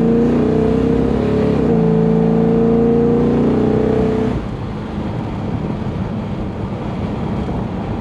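A 1969 Dodge Coronet R/T muscle car revs loud and close for about four seconds with rising harmonic tones, then drops to a rougher, steady rumble with wind noise.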